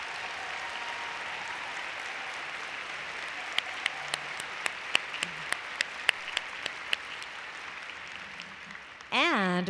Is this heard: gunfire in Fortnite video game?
no